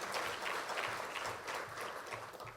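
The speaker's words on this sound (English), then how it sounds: "Could we give him a round of applause?" An audience at a manufacturing summit keynote applauds an economic policy advisor, a brief stretch of soft, fairly distant, steady clapping.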